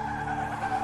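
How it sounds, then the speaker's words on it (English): A car's tires squeal in a long, continuous skid just before it crashes into a tree, loud and close, with a steady engine drone beneath the screech and no talking. "Okay, we got in a car accident."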